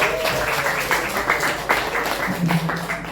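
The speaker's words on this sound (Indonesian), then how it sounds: "Tepuk tangan sekali lagi." A classroom of people claps together in a brief burst of applause, moderately loud and close.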